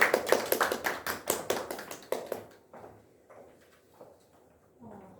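An audience at an elementary-school winter term information session claps to welcome a presenter: dense, close applause for about two seconds, then quickly thinning to a few scattered claps and faint room sounds.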